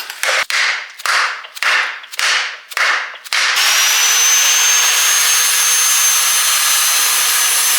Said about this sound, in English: Hammer. Hit it. Hit it.